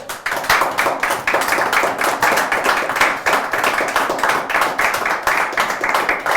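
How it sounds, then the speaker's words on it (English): A round of applause from a small group of men, dense and steady clapping that stays loud and close throughout with no talking over it. "How about a round of applause for the world number 1, fellas?"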